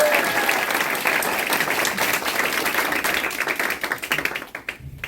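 An audience at a youth committee launch and appointment ceremony for a Korean political party gives loud, sustained applause, a dense crowd of clapping that fades into scattered claps near the end.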